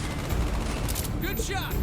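Bursts of gunfire crackle in quick succession in Call of Duty: Black Ops, fairly close, mixed with a voice speaking briefly in Ukrainian near the end.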